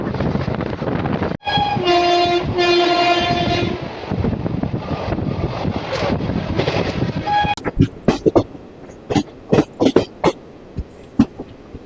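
A nearly empty passenger train runs on the route from Digha toward Bandel Junction and New Jalpaiguri in West Bengal, its horn sounding in sustained blasts over rumbling wheels, then rhythmic clacks of rail joints as it rolls on.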